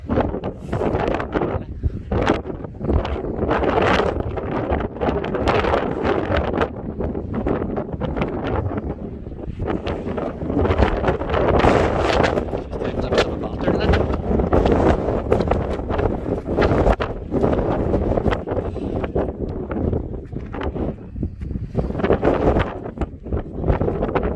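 Strong wind buffets a wild camp in the Mourne Mountains beside a Hilleberg Soulo tent, a loud, steady roar and rumble of gusts across the microphone for the whole stretch, with no pause.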